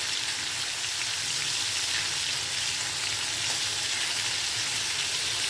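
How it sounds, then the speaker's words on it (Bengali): Katla fish fries in a pan of hot oil, giving a loud, continuous sizzle and crackle that holds evenly throughout with no voices. "মাছটা একটু এপাশ ওপাশ করে উল্টিয়ে একটু কাল ভেজে নিতে হবে"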